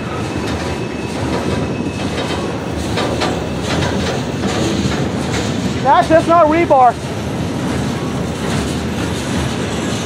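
A CSX freight train led by locomotive 5426, carrying rebar and steel rods on bulkhead cars, rolls by loudly with steady rumbling and clattering wheels, a brief squeal midway, and someone speaking over it.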